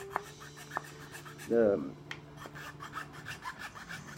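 A hand file rasps against a Greek briar Canadian tobacco pipe, with scattered light taps and one brief louder scraping stroke against quiet background noise.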